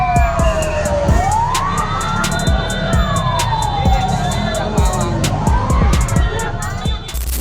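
A fire truck siren wails loudly and close on a street behind a small LCGC car, its pitch sweeping up and down repeatedly over traffic rumble and horn-like blasts.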